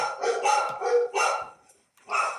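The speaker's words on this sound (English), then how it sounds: "Oh, sorry, my dogs are barking." Dogs barking in short bursts, several sharp barks close by, then a pause and a final bark, with no talking over them.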